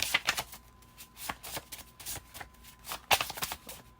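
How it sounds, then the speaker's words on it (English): Tarot cards being shuffled in quick, uneven bursts of riffling and slapping, close up and fairly quiet, with brief pauses between the shuffles. "These are hard to shuffle, so just be patient with me here."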